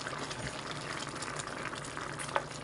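Chicken creamy menudo simmers in a pot, a soft steady bubbling and gurgling close by with one brief clink near the end, no voices.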